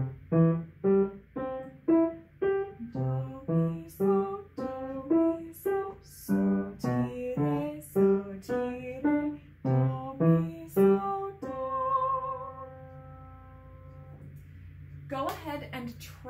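A piano plays a Sartini piece of steady, evenly spaced single notes that ends on a rising tonic major arpeggio held as a ringing chord. A voice briefly speaks right after.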